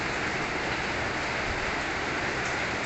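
Steady, dense hiss of heavy rain falling in Thailand, constant and unbroken throughout, with a low rumble underneath and no voices.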